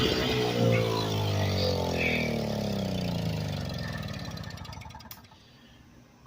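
An old smoky snow blower engine runs with a rough, throbbing mid-pitched drone that slowly fades before cutting off near the end.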